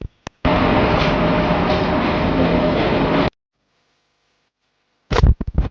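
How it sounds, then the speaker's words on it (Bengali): Leather dyeing drums run in the drum section of a tannery, a loud, steady mechanical roar that holds for about three seconds and cuts off abruptly, followed by silence and then a burst of clattering noise. "এটা ড্রাম সেকশন এখানে চামড়াগুলোকে কালার করে এই ড্রামের মধ্যে ভরতে হয়"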